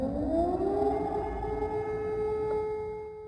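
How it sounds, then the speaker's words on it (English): An air raid siren sounds in Ukraine, a loud wailing tone that rises and then holds steady, heard alone throughout. "Every 2 or 3 hours there are being sirens, and we have to run to the bunkers."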